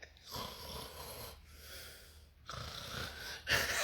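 A voice imitates snoring with several raspy, wheezing inhaled snores in a slow rhythm, close and fairly quiet, ending in a harsher snort.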